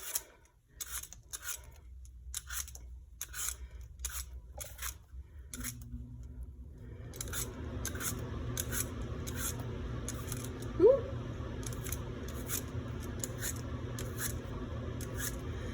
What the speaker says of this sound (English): So just peel that super quickly.